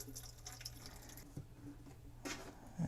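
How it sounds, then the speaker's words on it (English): Wiper fluid poured from a plastic water bottle into a Toyota 4Runner's washer reservoir, a steady close trickle of liquid running throughout and swelling to a heavier gush near the end. "I'm gonna go ahead and refill this reservoir back up with the old wiper fluid and see if anything leaks"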